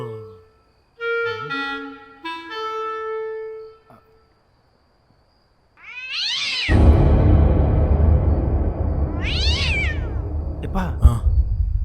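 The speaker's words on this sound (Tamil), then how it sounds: "அது பூனைப்பா." A cat gives two loud, drawn-out meows close by, following an earlier stretch of people talking and set against a dense, noisy background.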